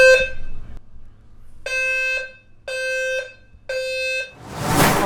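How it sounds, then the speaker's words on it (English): A hotel fire alarm sounds in loud, evenly spaced tonal blasts, four bursts with pauses between them, followed by a short burst of broadband noise. "We'll set the fire alarm off."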